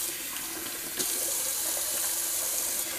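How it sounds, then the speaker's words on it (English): Cold tap water runs steadily into a sink for a face rinse after a wet shave, a soft hiss at first that turns into a louder, brighter gush about a second in and then holds, close by with no voices. "Let's do a little cold water rinse."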